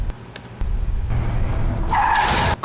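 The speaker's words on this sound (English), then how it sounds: "Car crash." Car crash scene from the BTS Wings short film: a loud rush of car engine noise builds into screeching, skidding tires near the end, with no talking.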